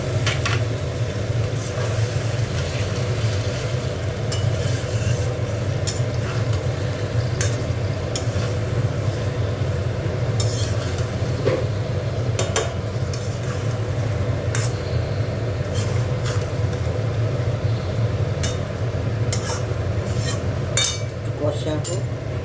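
Potato and cauliflower curry is sautéed in a pan, with a continuous low sizzle under repeated clinks and scrapes of a metal spoon against the pan, close and steady throughout.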